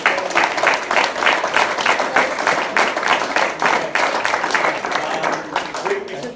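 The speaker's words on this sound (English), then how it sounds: "let's give one more huge round of applause for Where's Winston?" Audience applause at a talk on medical applications of psychedelics, a dense, steady clatter of many hands that stays loud and even for several seconds, with crowd noise mixed in.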